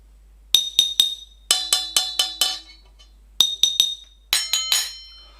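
Bright ringing taps on glass and metal, struck in quick clusters of three to four with pauses between, each note chiming and decaying cleanly.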